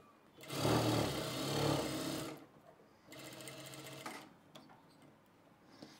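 An electric sewing machine stitches a blouse collar, running in a steady rapid whirring burst of about two seconds, then a quieter second run, close and alone with no talk.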